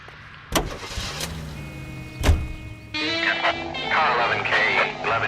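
A car in L.A. Noire gives a couple of door thunks, then its engine starts and settles into a steady running hum while a radio chatters over it.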